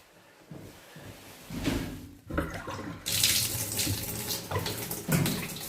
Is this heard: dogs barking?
no